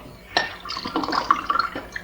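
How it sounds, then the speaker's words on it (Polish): Water poured into a glass at close range: a short, bright gurgling trickle lasting about two seconds, rising in pitch as the glass fills. "słychać jak wlewam sobie wody"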